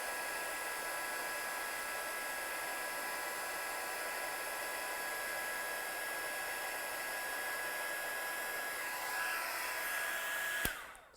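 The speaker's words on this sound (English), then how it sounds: "we'll heat set this one quickly" Steady airy blowing of a heat tool used for heat setting in a craft studio, constant and fairly quiet for about ten seconds before a sharp click as it switches off.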